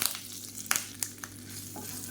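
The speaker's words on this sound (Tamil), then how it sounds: "இப்போ கடுகு வெடிக்க ஆரம்பிக்குது" Mustard seeds and urad dal spluttering in hot oil while making chutney for idli and dosa, a soft continuous sizzle punctuated by a few sharp pops, close and fairly quiet.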